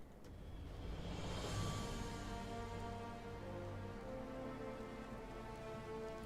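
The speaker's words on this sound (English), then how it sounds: "Sounds like it's raining, which could be good." Rain falling in a Final Fantasy video game, a soft, steady patter of drops spread evenly across the scene at low volume, with no voices.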